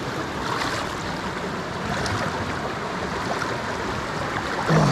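Fast, powerful river water rushes steadily and loudly over a slippery stretch at a gold prospecting spot, a continuous broadband roar with no pause.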